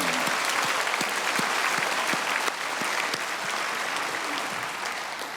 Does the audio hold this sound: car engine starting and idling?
no